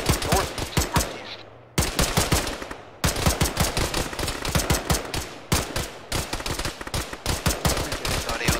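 Gunfire in the Arma video game during a ShackTac squad engagement, with long rapid automatic bursts broken by brief pauses, loud and close and dominating throughout.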